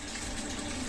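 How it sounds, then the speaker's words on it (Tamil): Plain water poured into a simmering pot of fish curry, a steady close-up splashing gush that runs continuously without a break. "இப்போ வெறும் தண்ணி ஊத்துறேன்."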